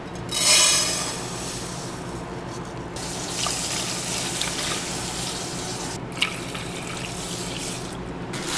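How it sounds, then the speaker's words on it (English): Water running from a tap into a pot of quinoa, measured at two cups of water to one cup of grain, a steady close pour with a brief splashy start and no talking. "the directions say add 2 cups of water to 1 cup quinoa"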